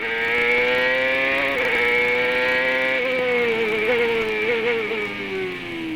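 A CART race car at full throttle on a qualifying lap around the Denver street circuit, its high-pitched engine note holding steady and loud, then dipping and climbing again through gear changes as it speeds past.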